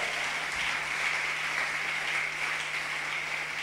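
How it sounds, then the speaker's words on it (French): A church congregation applauds loudly to acclaim the king during a worship service, a steady unbroken wash of clapping with a faint low hum beneath. "On peut acclamer très fort ce roi-là. Acclamons-le très fort."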